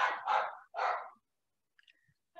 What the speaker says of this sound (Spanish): A ver, dejen que se calmen estos perritos.